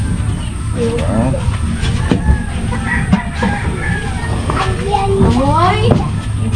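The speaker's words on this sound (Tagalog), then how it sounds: "Mga manok naman niyo." Chickens cluck and crow nearby in repeated rising calls, with people talking over them throughout.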